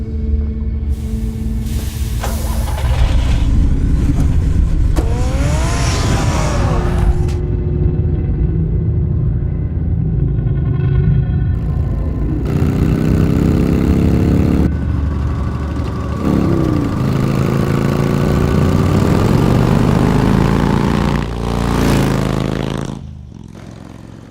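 A car engine revs and pulls away in Batman: The Telltale Series, a loud, steady mid-range roar with rising and falling pitch sweeps, shifting gears and fading near the end.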